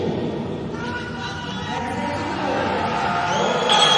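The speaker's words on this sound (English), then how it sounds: "And you can hear the crowd cheering." A crowd at a synchronized 3m springboard diving event at the 2023 European Games cheers and whoops continuously, a dense roar of many voices that swells slightly toward the end.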